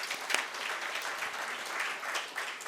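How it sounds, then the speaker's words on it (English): Audience applauding volunteers at a panel event on gender equality and diversity in leadership, a steady moderate wash of clapping that holds for the full few seconds without talk. "A huge round of applause for them"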